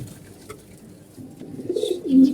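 Pigeons coo low and soft at a home loft, the cooing swelling louder toward the end over faint background rustle, with no one talking.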